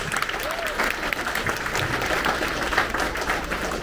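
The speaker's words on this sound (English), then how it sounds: "another big round of applause." Audience applause fills a school promotion ceremony for sixth graders, a dense, steady round of clapping from a crowd that holds at an even level throughout with some faint voices mixed in.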